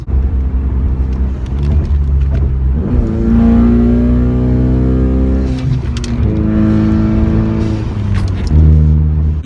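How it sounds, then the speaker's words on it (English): A Ford Mustang with an EcoBoost turbo engine revving and accelerating, its loud, steady drone rising in pitch through several gear pulls, with brief drops at each shift and no talk. "do not fully accelerate in a high gear"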